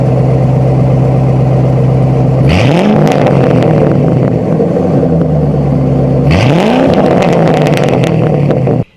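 A Ford Mustang with Flowmaster Outlaw mufflers revs loudly and close up in two sharp throttle blips, each rising quickly and then falling back to a deep, rumbling idle.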